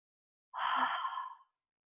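A single relaxed exhale through the mouth during a yoga breathing exercise, a soft breathy sigh lasting about a second, close and alone in silence.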